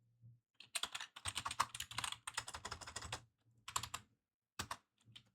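Python code being typed on a computer keyboard, with rapid bursts of close, crisp keystrokes broken by short pauses and ending in a few isolated taps.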